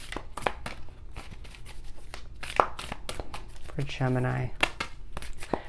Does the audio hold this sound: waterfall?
no